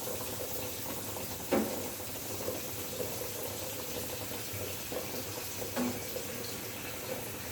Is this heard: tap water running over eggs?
yes